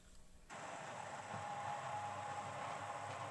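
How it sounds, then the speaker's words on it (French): A blender mixing oats and water kicks in abruptly and runs at a steady, loud whirring roar, following a moment of quiet. "je vais mixer. On va mixer plusieurs secondes."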